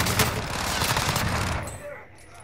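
A rapid burst of automatic gunfire rattles loud and close in Call of Duty: Modern Warfare, a dense string of shots that cuts off and fades into a quieter tail.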